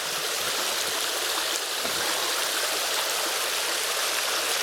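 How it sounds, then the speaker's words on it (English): Steady rushing roar of a waterfall at a reservoir, a dense continuous wash of falling water heard close and loud, with no talking. "Nice waterfall."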